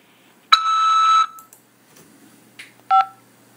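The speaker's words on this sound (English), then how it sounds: "press 5 to accept this call" A phone keypad tone sounds as 5 is pressed to accept a collect call from a Nebraska prison: a long electronic beep followed by a few short, crisp dial tones, clean and close with no voices.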